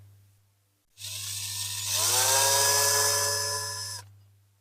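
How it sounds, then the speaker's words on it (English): A drill bit grinding out a corroded rivet on a diecast Dinky Toys military ambulance during restoration, one steady close whine of about three seconds that rises in pitch partway through, over a constant low hum. "Just put a drill through there."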